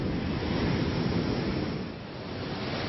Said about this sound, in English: it's energy captured from the atmosphere that's turned into the brute force of a crashing wave.